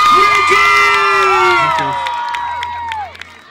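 A live concert audience cheers and shouts for a singer, loud excited voices and whoops with some clapping that fade out toward the end.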